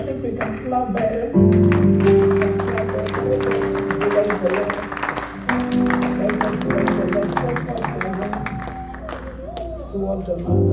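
A congregation in a church claps in a steady, rhythmic beat, many hands close together, over sustained musical tones.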